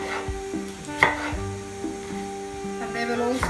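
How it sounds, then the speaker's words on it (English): A knife cuts bullet chilies on a slant into chunky pieces, giving a few crisp, separate taps on a board over a steady tonal background hum. "Then for these bullet chilies, you need to cut them on a slant,"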